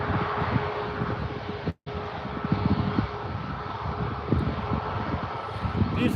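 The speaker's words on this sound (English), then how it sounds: "A Ryanair 737 taxiing out," Ryanair Boeing 737 taxiing at Birmingham airport, a steady jet engine roar and whine, fairly close, with wind noise on the microphone.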